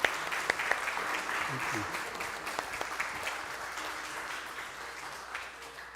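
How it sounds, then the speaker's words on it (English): Applause from an audience at a live humanist program, moderately distant and steady, with a voice speaking briefly over it. "Big round of applause"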